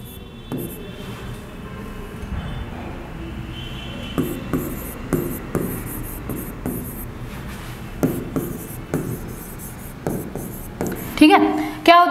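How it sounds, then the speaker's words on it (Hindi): Stylus handwriting on a digital writing screen during a lesson, with repeated soft scratchy taps and strokes in irregular bursts, mostly quiet and close, ending with a louder rustling scrape. "लिख देती हूँ"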